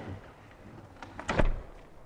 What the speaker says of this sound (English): If she goes, the door shuts.